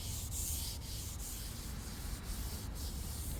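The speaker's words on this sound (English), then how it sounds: "I'm just going to use a Scotch-Brite pad" A Scotch-Brite pad rubs over lathe parts in quick back-and-forth strokes, giving a close, dry, scratchy scrubbing sound with a soft regular rhythm and no voices.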